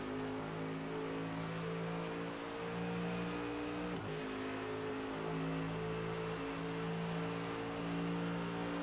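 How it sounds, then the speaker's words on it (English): Race car engines hum steadily in the iRacing sim at the Nürburgring 24 Hours, with Porsche and BMW cars on track and a continuous droning tone that shifts pitch slightly as revs change, fairly quiet, with no talking. "Well, the Porsche sounds so much better."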